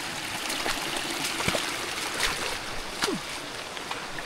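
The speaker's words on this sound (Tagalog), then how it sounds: "Sundan lang po natin agos." Forest stream current flowing on a trail to Antong Falls, a steady close watery rush with trickling and small splashy accents throughout, no voices.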